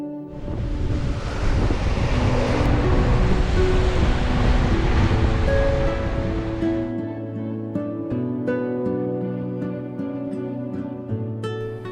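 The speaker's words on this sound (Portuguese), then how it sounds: "as ondas estavam se retraindo" Ocean surf at Arraial do Cabo washing up and drawing back across the shore, a loud broad roar for about seven seconds that eases into softer hiss and trickle as the water retreats, with a faint tonal hum underneath.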